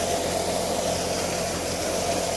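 A farm tractor (52 gear pro model) running, a steady droning engine rumble that holds evenly for the whole stretch without voices.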